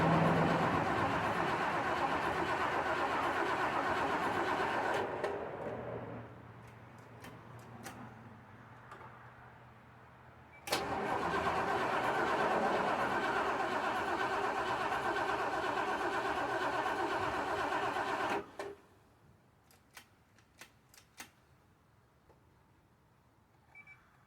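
A 1975 Bricklin SV-1 engine cranks and roars in two long, loud bursts separated by a quieter lull, then cuts out, leaving scattered faint ticks and clicks.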